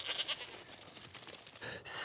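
Goats in a field on an old coal spoil heap, a few bleats and bursts of animal calls, nearby and moderately loud, the strongest at the end, with no talk.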